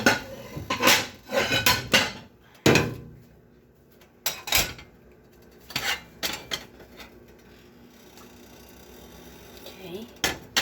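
Plates, pans and cutlery clatter in several sharp bursts during shrimp omelette preparation in a home kitchen, with near clinks and knocks separated by brief quiet gaps.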